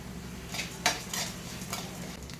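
Chana dal, urad dal, coriander seeds and cumin are dry-roasted in a pan, with soft scraping and stirring strokes and faint rustling of the dry seeds, quiet and close.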